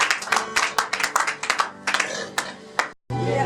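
A church congregation claps together in a quick, steady burst of applause, loud and close, before the sound cuts off briefly near the end.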